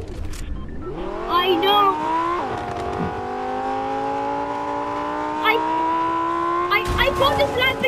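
Lamborghini sports car driving in the video game Fortnite, its engine revving up into a steady loud drone that shifts pitch once, with a person talking briefly over it.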